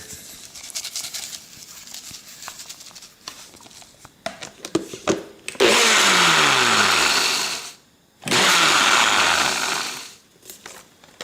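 Freshly dried garden oregano whirled in a spinning kitchen appliance: two loud, sustained whirring bursts separated by a brief pause, each winding down in pitch, after some lighter handling knocks.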